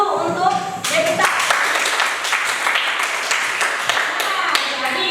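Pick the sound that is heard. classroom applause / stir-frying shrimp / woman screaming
classroom applause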